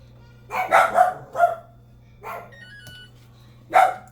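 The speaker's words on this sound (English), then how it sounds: "Okay, sorry about the dogs." Dogs bark several times in short bursts, a quick cluster followed by two more spaced barks, fairly close, with a low steady hum underneath.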